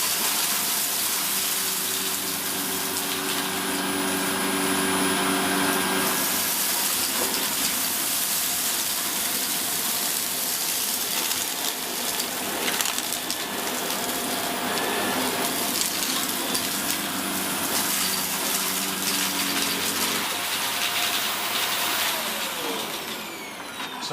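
A Vax Mach Air Reach U90-MA-R upright vacuum from 2013 or a Dyson Light Ball roars continuously as it sucks up mess, a loud, close whine and rushing airflow that shifts in pitch partway through, with no voices.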